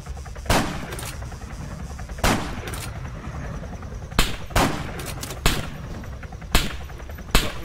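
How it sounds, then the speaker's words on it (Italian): Gunfire in the Arma 3 Epoch mod: sharp loud shots in irregular bursts, single cracks and short volleys spread across the clip over a steady background rumble. "sparano a noi"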